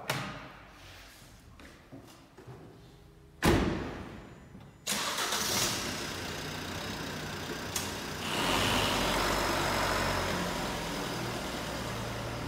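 A Fiat 500L 1.3 Multijet diesel car has its door shut, then the engine cranks, fires and settles into a steady, close idle. The engine rises slightly near the end.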